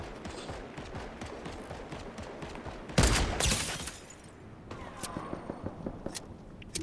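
Fortnite gunfire: a steady patter of distant shots, a loud close burst near the middle that fades, then a series of sharp, evenly spaced single shots.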